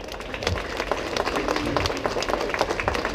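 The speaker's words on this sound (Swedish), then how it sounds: "Och nu vill vi höra en applåd!" Audience applause at a custom car and performance motor show, a steady wash of many hands clapping for about three seconds with no talk over it.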